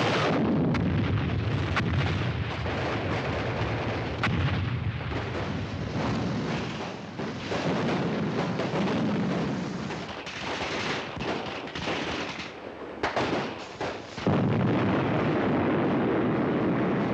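Soldiers fire rifles and artillery in a World War II paratrooper battle, a loud continuous barrage of blasts and booming shots rolling on throughout with no pause.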